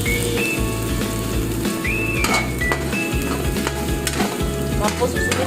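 Garlic frying in oil in a kawali, a steady sizzle with utensil scrapes and clanks as it is stirred, close and loud, with a few short whistling tones over it.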